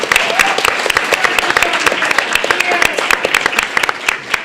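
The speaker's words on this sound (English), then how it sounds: "Everybody clap for the staff." A convention crowd at BronyCon 2013 applauds the staff, with dense, loud clapping mixed with cheers and voices in a big hall, steady throughout.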